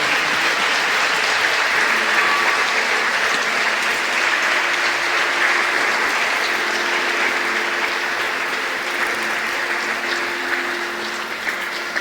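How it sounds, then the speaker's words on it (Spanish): Sustained applause from a large audience at a religious conference in Mexico, loud, dense clapping that continues steadily for about twelve seconds and tapers slightly at the end. "Fuerte el aplauso a nuestro Señor."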